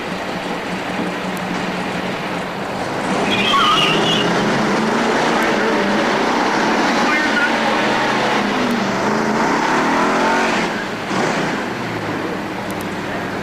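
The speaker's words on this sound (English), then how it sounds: "both cars are backed up for the burnout" Drag race cars doing a burnout at a strip in Norwalk give off a broad, loud roar with tire hiss that swells in the middle and then eases, with no talk.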